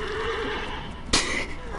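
A horse in a video game gives a loud, close whinny that rises and trails off, followed by a short bright burst of noise.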